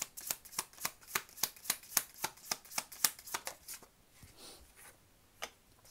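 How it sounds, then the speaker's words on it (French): Tarot-style cards laid out one after another for a card reading: a steady run of crisp, close slaps and flicks on a table, about a dozen in quick rhythm, then a few sparser taps. "Je vais disposer 9 cartes."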